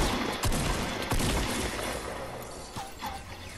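Gunfire in the video game Fortnite: several sharp, loud shots crack out in quick succession over a dense, noisy battle backdrop, with a few more bangs trailing off near the end.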